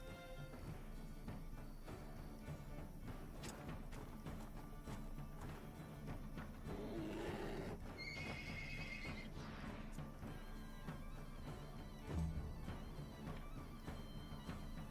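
A horse whinnies loudly over a steady game-like background in Wartales, with hoofbeats clip-clopping briefly and another whinny later.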